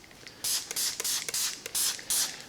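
A spray bottle misting water onto a yellowed car headlight ahead of wet sanding, six or seven short sharp hissing squirts in an irregular burst pattern, close and fairly loud against quiet background, no talking.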